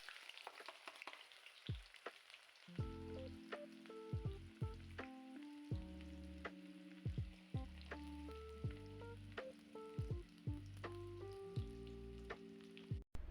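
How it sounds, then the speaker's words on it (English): Chopped onions soften in a hot pan, a continuous sizzle with occasional stirring, while tuneful background music plays throughout. "I stir and saute the onions until soft."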